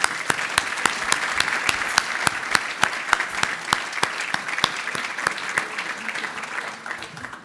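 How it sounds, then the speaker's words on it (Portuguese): A business dinner audience claps for ANACOM with steady, close applause throughout. Sharp, rhythmic individual claps stand out over the dense crowd clapping, which keeps a fairly even loudness to the end. "eu pedia a todos vós que me acompanhassem numa salva de palmas para a ANACOM"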